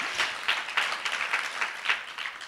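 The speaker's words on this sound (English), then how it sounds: "so please give her a round of applause." An audience at a community talk on plastic pollution applauds, steady clapping that swells and fades in a few soft waves and fills the room at moderate loudness for a couple of seconds, with no voices on top.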